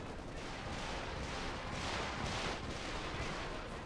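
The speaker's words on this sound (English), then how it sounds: "Unleashing 6 rockets." Rocket barrage fire in Company of Heroes 2, a dense, steady roar of overlapping blasts and rumbling explosions at moderate volume, swelling slightly midway with no voices.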